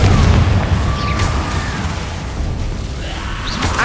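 Confringo fire spell explosion in the game Hogwarts Legacy: a heavy booming blast that opens loud, then rumbles and crackles with whooshing fiery streaks as it slowly fades.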